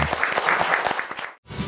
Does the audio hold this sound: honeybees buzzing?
no